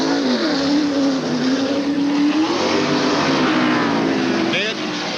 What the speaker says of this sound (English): You heard that engine go, wow, wow, wow.